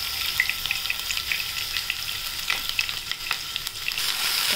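A ground paste of roasted onion and coconut fries in hot oil with mustard seeds and cumin, giving a loud, continuous close-up sizzle with crackling pops and occasional stirring scrapes, no voices.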